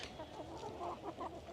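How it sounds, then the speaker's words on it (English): Cream Legbar chickens cluck softly nearby in a short, quiet run of low clucks and murmurs. "They're very pretty chickens."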